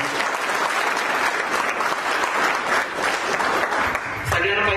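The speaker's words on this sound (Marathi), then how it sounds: "जोरदार टाळ्या होत्या" Sustained, dense audience applause fills a crowded hall at a 26 January 2025 achievers' function. It stays loud and steady throughout and thins slightly at the very end.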